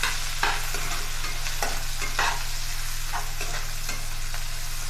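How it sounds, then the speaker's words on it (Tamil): Chopped large onions sauté in hot oil in a pan, a steady close sizzle broken by scraping stirs. "இப்போ இதை நல்லா வதக்கிக்கலாங்க"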